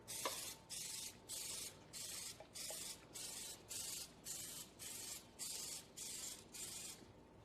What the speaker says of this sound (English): So we'll take our pan spray and just kind of lightly spray them.